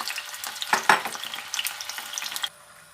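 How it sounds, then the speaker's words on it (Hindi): Taro (arbi) pieces frying in hot oil in a home kitchen, a busy crackling sizzle with sharp pops near the start, steady spitting throughout, then quieter sizzling for the last half second. "अब फ्राई करने के लिए इसमें अरबी डालूंगी"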